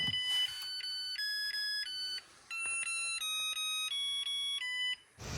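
A Zojirushi NS-LGC05XB rice cooker plays its finished-cooking melody, a loud, clear electronic tune of bright steady tones in two phrases split by a short pause, with no voices.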